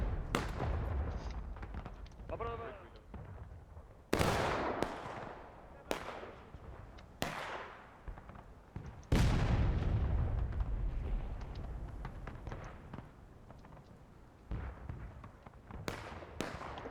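Booming cannon blasts in a Civil War battle game, several heavy reports at irregular intervals, some close and loud with long rumbling tails, others more distant, over a constant battlefield din.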